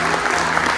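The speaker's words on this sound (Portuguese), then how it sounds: "Aplauda o Senhor." A church congregation at an Easter service claps in a loud, dense, continuous wash of applause, close and filling the brief moment.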